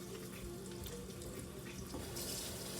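Tap water runs over a sliced onion being rinsed at a kitchen sink, a steady close splashing stream for the whole moment with no voices.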